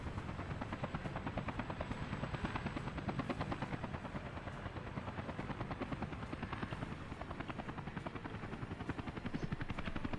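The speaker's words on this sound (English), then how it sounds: "oh, the helicopter starts because that has no connection" Helicopter in the Soviet city-building game Workers & Resources: Soviet Republic, its rotor chopping in a fast, even pulse that stays steady and moderately close for about ten seconds, with no voices.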